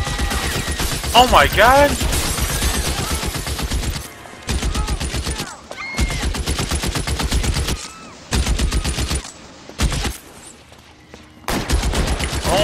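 Browning Automatic Rifle (BAR) fire in the video game L.A. Noire: loud, rapid automatic bursts of several seconds with brief pauses, while a player exclaims over the shooting.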